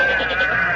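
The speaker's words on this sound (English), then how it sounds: "he's brought all his little sheep friends with him" A goat and sheep bleat outside in an old-time radio comedy, a short, wavering, nasal cry that is loud and close, with no talk over it.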